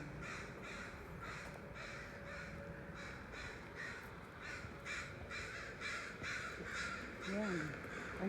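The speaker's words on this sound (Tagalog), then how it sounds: "Ang ibon dito, puro uwak." Crows cawing repeatedly in a steady series of harsh calls across the scene, heard outdoors while walking in cold weather, with voices talking over them.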